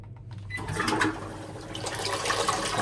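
A Japanese electronic toilet flushes in a bathroom, a sudden rushing surge of water that swells and keeps churning loudly to the end, with no talking.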